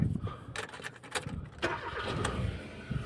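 A Hyundai car engine cranks and catches, with a few quick starter whirs, then settles into a rough idle. It is close and moderately loud, with no talking.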